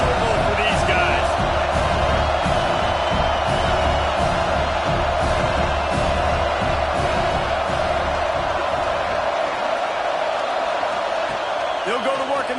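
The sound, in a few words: stadium crowd cheering in a college football video game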